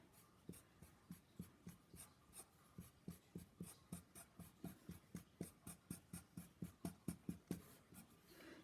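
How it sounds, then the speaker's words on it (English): Pencil or pen on paper, drawing tree trunks and lines for a one-point perspective sketch: quick, rhythmic scratchy strokes in a steady series of about twenty-five, close and fairly quiet, with no talk. "And I'm going to draw my line."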